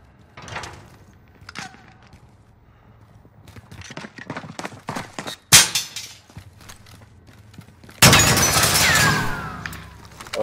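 Call of Duty Warzone gunfire: a burst of sharp shots and in-game action noises, with a loud sustained blast near the end, all fairly close and with no talk over it.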